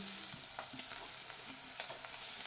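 Dried shrimp (sode) sautéing in masala for a soda biryani: a faint, steady sizzle with a few light stirring clicks, close but quiet, and no talking.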